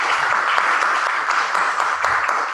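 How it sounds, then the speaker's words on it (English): Steady applause from a small meeting audience welcoming a member, dense clapping at constant loudness filling the whole stretch without talk. "With a round of applause for Benny."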